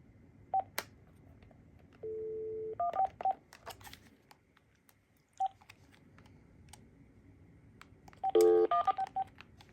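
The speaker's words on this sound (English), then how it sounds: "you can press and hold a speed dial number to make the call" Phone keypad tones from an AT&T CL83464 phone beep over soft button clicks as a speed dial number is pressed and held, one longer tone, then a quick burst of stacked dialing tones near the end.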